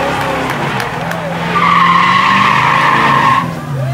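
A hillclimb race car passes with its tires skidding and squealing, a rising engine note and a sustained screech under distant crowd noise and chatter.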